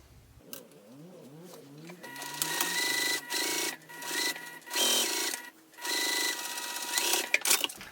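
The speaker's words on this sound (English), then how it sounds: "Let's go ahead and sew along this edge, connecting these 2 pieces" A home sewing machine stitches along the edge of two crossbody bag pieces, running in several short bursts of rapid whirring separated by brief pauses, close and fairly loud, after a few soft handling sounds at the start.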